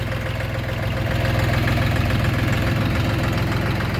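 A YTO 244SX tractor engine runs steadily at a low, even idle-like rumble with a knocking beat, close and constant throughout with no talk.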